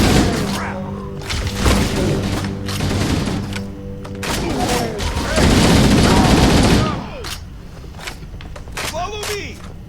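Pistol fire in Halo CE Anniversary on the Pillar of Autumn mission, sharp repeated shots in uneven bursts with explosions and a loud sustained burst midway, mixed with game sounds and talk.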